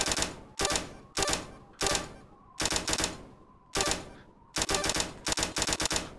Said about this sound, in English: We'll change gun for a Tommy gun.